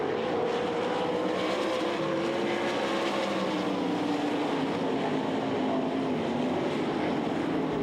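Sprint race cars roar around the dirt oval at the Knoxville Nationals, a continuous loud engine drone with shifting pitch as cars pass, heard at a distance without talk.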